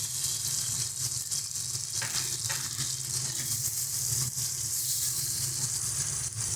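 Ground mustard and green chili paste sizzles in a pan with softened green tomatoes for a Bengali mustard tomato curry, a close, continuous hissing fry with faint stirring and no talk.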